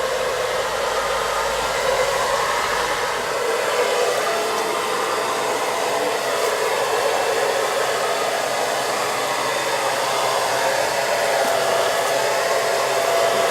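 A mosquito-collecting machine runs during resting-mosquito sampling in Muleba, Kagera region, Tanzania, giving a steady, loud, whooshing blower drone with no break from start to finish.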